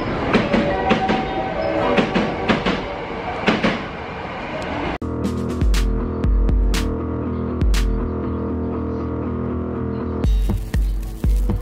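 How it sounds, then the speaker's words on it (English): A train rolls into a station in Osaka, Japan, with rhythmic clattering and rumbling, then a steady mechanical hum and repeated clicks as it slows alongside. "we're at the train station. We are waiting for the train to come"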